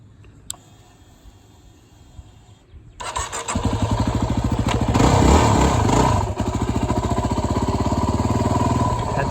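Motorcycle starts up and revs as it rides through a homemade practice obstacle course in West Virginia, weaving between an old car tail fin, a trailer and a canoe. Close and loud engine, quiet at first, then steady revving.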